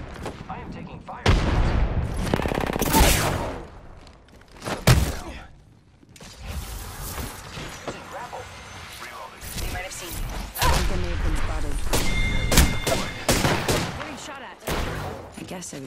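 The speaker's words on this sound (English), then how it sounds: "I am taking fire." Gunfire in a video game shooter, with repeated loud bursts and single shots in uneven clusters, some sharp and near, others duller thuds. Voices talk over the shooting throughout.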